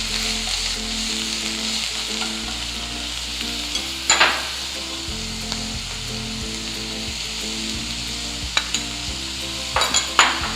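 Mixture being stirred and fried in a pan, a steady sizzle with occasional sharp utensil scrapes and clicks, under background music.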